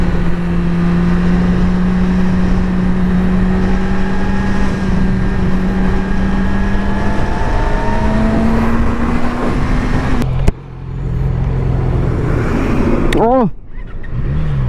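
A 2019 Yamaha R6 sport motorcycle engine revs steadily while riding, its pitch climbing and shifting through gears under strong wind roar, with a brief throttle blip and drop near the end.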